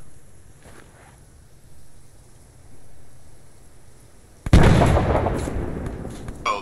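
A frag grenade detonating in the military shooter Arma 3, one sharp close blast after a quiet stretch of low ambient noise, followed by a rumbling decaying tail and a smaller pop near the end.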